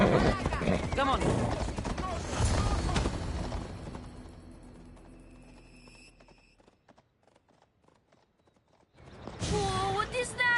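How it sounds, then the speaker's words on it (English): Horse hooves clip-clop in the video game Assassin's Creed Odyssey, mixed with game sounds and talk at first, thinning to near silence midway before voices return. "He's a special horse and belongs to Hades."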